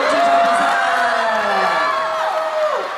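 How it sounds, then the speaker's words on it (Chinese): Crowd at a boy-band fan meeting in Chongqing cheering and shouting loudly after a game round ends, a dense, sustained roar of excited voices lasting throughout. "掌声送给杨浩翔，胜出了我们这场比赛"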